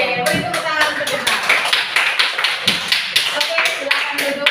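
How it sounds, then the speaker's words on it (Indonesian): Junior high classroom students clapping together in a rhythmic, patterned applause, a burst of sharp claps repeating in regular beats, close and lively with voices mixed in. "Oke, beri tepuk tangan untuk kita."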